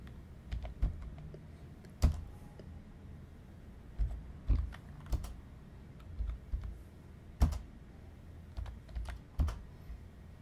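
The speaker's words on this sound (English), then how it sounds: "let's type in some numbers" Numbers being typed into an Excel spreadsheet on a computer keyboard, heard as sparse, soft clicking keystrokes in small irregular bursts against a quiet background, with no voices.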